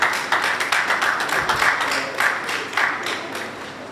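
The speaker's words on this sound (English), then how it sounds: "Please can you just applaud yourselves?" An audience at a women's forum summit for female lawyers breaks into a scattered round of applause, many hands clapping at close range in uneven bursts that gradually thin out.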